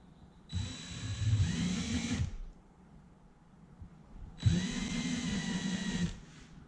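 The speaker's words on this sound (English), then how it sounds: "I'm going to use this to countersink these 3 holes right now" A countersinking tool in a drill whirs through rivet holes in an aluminium CriCri airplane wing spar in two steady runs of about two seconds each, with a short quiet pause between them.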